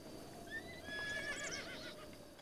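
A horse in Zelda Breath of the Wild lets out a clear, rising-then-falling whinny as it approaches, with soft hoof clops beneath, fairly close and alone without talk.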